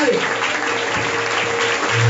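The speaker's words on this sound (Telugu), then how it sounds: "ప్రభుని కనపరుస్తూ ఉండండి, చప్పట్లు కొడుతూ ఉండండి." A congregation at a Sunday church service claps in a continuous wash of applause, steady and fairly loud, with a voice carrying over it.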